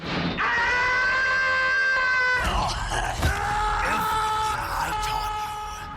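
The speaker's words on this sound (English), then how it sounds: "I'm not the only one who hears Tom the cat screaming when Leon dies, right?" Leon's death scream in the Resident Evil 4 remake (2023), a long, sustained, cartoonish yell that breaks midway into a second wavering, strained cry, loud and close.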